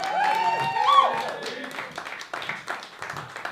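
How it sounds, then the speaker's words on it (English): An audience at an open mic storytelling night applauds to welcome the evening's host, a steady wash of clapping with voices and cheers mixed over it, loudest near the start and thinning toward the end. "with a big round of applause, help me welcome your host for the evening"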